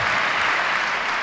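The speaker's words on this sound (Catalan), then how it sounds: "Sí, aplaudiu. Que els aplaudiments mai sobren." Audience at a Catalan national rally applauding, dense continuous clapping from a large crowd heard close and loud.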